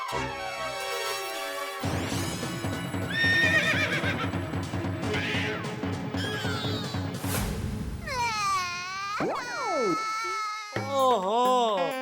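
A horse neigh rising from a parcel box among a busy run of cartoonish effects: whinnies, cry-like wails, warbling whistles and swooping tones, loud and continuous with no talking.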